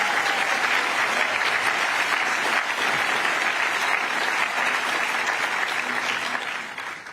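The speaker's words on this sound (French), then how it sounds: "Vous pouvez l'applaudir." Sustained loud applause from a large audience at a French political speech, dense steady clapping that fades toward the end, with no speech.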